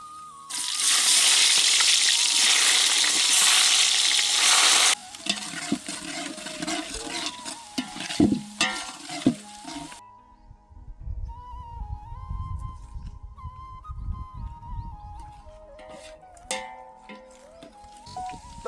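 Dry onions dropped into hot oil while cooking methi matar malai in a village-style kitchen, a loud, dense hiss for several seconds that then settles into a softer, crackling sizzle with scattered clinks.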